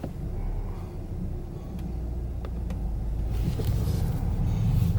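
A 2019 VW Golf R MK7.5 pulls away in first gear, its engine a steady low rumble that swells slightly as it moves, with faint road noise and no voices.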